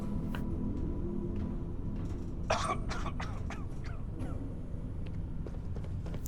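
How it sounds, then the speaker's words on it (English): A character in the video game Starfield coughs a few times in a short cluster midway, clearly above a steady, low in-game ambience. "I apparently got some kind of a cough"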